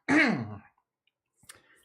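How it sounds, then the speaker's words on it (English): A single short, rough throat clearing from an adult, close and fairly loud, followed by a second of near silence and then a few faint small clicks and rustles. "clear my throat"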